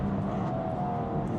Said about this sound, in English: It really makes sense to just push the throttle and let the RPMs climb on this car